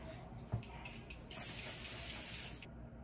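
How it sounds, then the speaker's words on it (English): A shower runs steadily in a bathroom with a soft, continuous hiss of falling water, heard fairly quietly with a brief knock and faint shifting sounds. "now I'm gonna go get in the shower"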